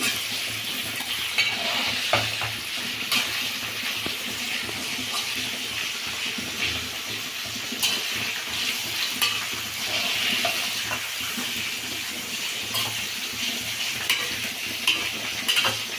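Brinjal gravy simmers and sizzles in a pan, with a steady frying hiss and the scrape of a spoon stirring it throughout, nobody talking.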